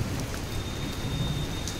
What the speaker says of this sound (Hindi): और बारिश देख ही रहे कि कितना हम बारिश में भीग रहे हैं।